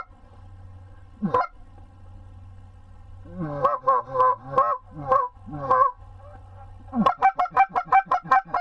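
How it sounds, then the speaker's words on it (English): Geese honk repeatedly from close by in loud, nasal calls, first scattered and then in a quick rhythmic series, over a low steady background hum. "Now those are some nice geese."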